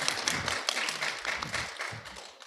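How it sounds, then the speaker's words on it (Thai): Audience applause welcoming a speaker at a science fair panel discussion, close, uneven clapping from a small group with distinct individual claps. "ปรบมือต้อนรับ"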